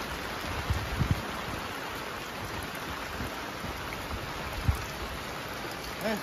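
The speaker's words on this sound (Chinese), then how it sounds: "今天雨好大" Heavy rain falls at an outdoor fish pond as a steady, broad wash of faint hiss, with a few louder splashes and knocks now and then.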